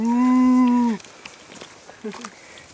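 A single long, loud moo from cattle nearby at a Wyoming campsite, followed by quiet outdoor ambience and a short, softer low call.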